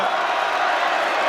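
A dense arena crowd roars in support of Anthony Joshua during his boxing bout with Joseph Parker, a loud continuous wall of cheering and murmur with no distinct breaks.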